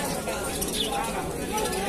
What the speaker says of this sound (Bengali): এই ওপরে খাঁচায় পায়রা রয়েছে